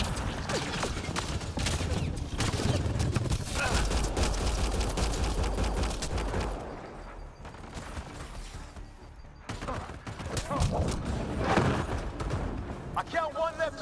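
Sustained bursts of rapid gunfire from a Mass Effect Andromeda firefight, dense and loud for the first several seconds, then thinner scattered shots and mechanical clatter, with voices talking over the action.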